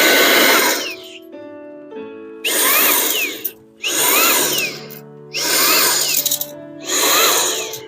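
Fortakasy compressed air duster blowing in loud, whirring bursts of a few seconds each, four blasts separated by short pauses with a falling whine as the motor spins down between them, recorded outdoors up close.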